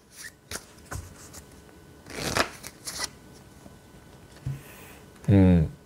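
Soul message cards are shuffled by hand, with a few soft flicks and slides leading into a brisk riffle near the end; a voice speaks briefly.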